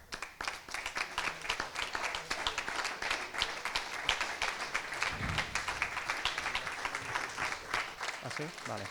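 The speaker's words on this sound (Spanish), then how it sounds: "fuerte aplauso para él" Applause from the audience at the Valencia centenary ceremony of the Real Federación Española de Hockey, a steady crowd clapping that stays fairly faint, with occasional voices and knocks mixed in.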